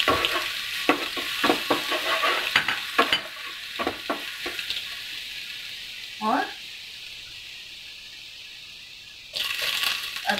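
Garlic and chilies fry in a hot pan for paneer jalfrezi, a bright sizzling hiss with a burst of stirring clatter and scrapes early on, the sizzle steady and close, briefly surging again at the end.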